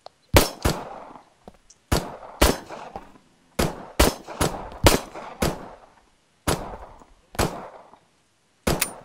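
Pistol shots in the video game The Dead Linger, about a dozen sharp, loud bangs fired singly and in pairs with short pauses between them, each cracking and then fading quickly.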